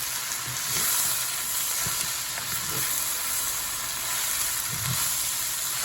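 Mushrooms stir-frying in a pan with onions: a loud, steady sizzle broken by a few soft scrapes and thumps of stirring, with no talking.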